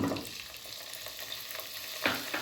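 Paneer pieces and cashews fry in oil in a pan, producing a constant close sizzle with light stirring scrapes and a louder spatter toward the end.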